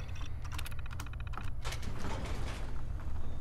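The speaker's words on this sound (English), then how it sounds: "Security doors, open door." A security door in the Fallout 4 Automatron area opens with a quick series of mechanical clicks and clacks, then a heavier grinding, whooshing slide that carries on to the end, close and fairly loud.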